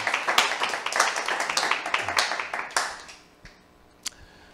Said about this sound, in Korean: 박수 치려면 쳐